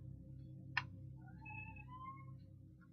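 A cat meows several times in rising, drawn-out cries, fairly faint over a steady low hum, with one sharp tap just before.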